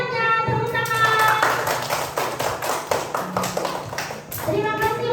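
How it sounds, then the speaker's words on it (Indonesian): Students in a classroom clapping their hands in a quick rhythmic pattern, near and lively, with children's voices and a teacher talking over and around the claps. "Beri semangatnya, tepuk tangan."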